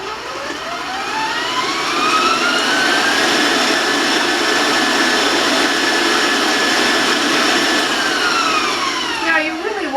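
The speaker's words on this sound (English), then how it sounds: "So I'm going to turn my mixer on, so I want to warn you of the sound." A stand mixer whirs steadily while beating eggs, the motor loud and close as it spins up from a rising whine and holds for about ten seconds before winding down at the end.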